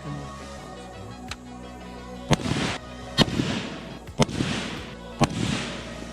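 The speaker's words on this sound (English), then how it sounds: "Shot at that Miller Lite." Gunshots are fired downrange at a Miller Lite can outdoors, four sharp, loud cracks spaced about a second apart, each followed by a brief rumbling echo, with a faint click before them.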